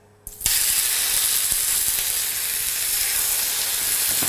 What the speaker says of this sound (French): Pour les tendrons de veau, dans une poêle bien chaude, mettre de l'huile